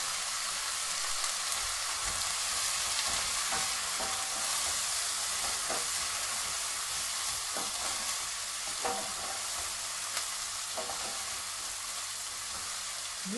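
Onions and coriander fry in a hot pan for a chicken curry, giving a steady close sizzle and hiss with occasional stirring scrapes and pops throughout, no voices over it.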